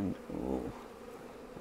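Honey bees on a frame during a Flow Hive brood inspection hum in a soft, close buzz that swells briefly and then settles into a faint, steady drone.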